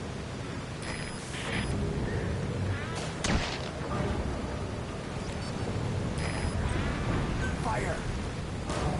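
Gunfire in the video game Metal Gear Solid V: dense, rumbling shots and blasts over a constant noisy bed, with one sharp, louder crack standing out partway through.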